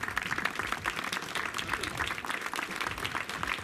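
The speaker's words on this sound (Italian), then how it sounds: "Applauso." Crowd applause at an outdoor summer celebration in Castellabate, Italy, marking the town's award of five sails for its sea; dense, steady clapping fills the whole stretch at moderate distance.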